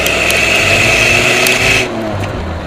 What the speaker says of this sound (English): And let's also check that exhaust